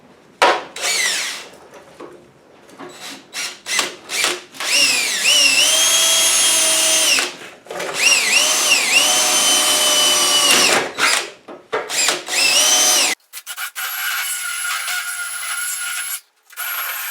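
A power drill bores out spot welds on a Chevy C10 fender, whining in sustained high-pitched bursts of several seconds each, separated by short pauses and quick trigger blips, loud and close.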